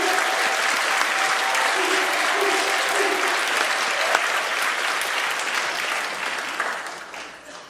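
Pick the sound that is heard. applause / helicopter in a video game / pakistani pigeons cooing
applause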